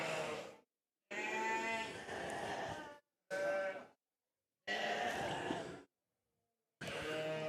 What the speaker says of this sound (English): Good lineup of sheep.